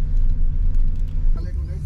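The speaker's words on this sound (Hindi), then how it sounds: "तो गाइस अब पापा कार चलाने जा रहे हैं। ये हैंड ब्रेक हटाए, एक नंबर पे गाड़ी चला दी" Car engine rumbling low and steady as it pulls away in first gear after the handbrake is released, heard from inside the cabin, with a voice talking over it.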